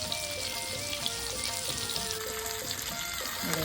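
Prawns (bagda) frying in hot oil, Aagri Koli style, with a steady dense crackle and hiss throughout, close and fairly loud, with a few faint clinks near the end.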